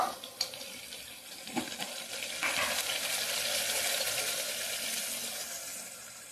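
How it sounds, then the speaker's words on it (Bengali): Frying sesame and poppy seed paste with turmeric, cumin and chili powder for a fish curry, a broad hiss of sizzling with a few scraping knocks near the start, swelling steadily louder and holding, no voices. "এখন সবগুলোকে একসঙ্গে কষিয়ে নেব।"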